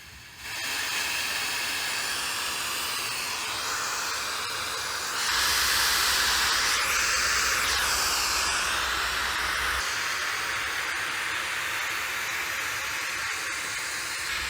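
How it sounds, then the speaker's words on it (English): Steady pink noise test signal, a broad even hiss that holds for the whole stretch and swells louder and fuller in the middle section before settling back, with no talking. "I'm going to generate some pink noise"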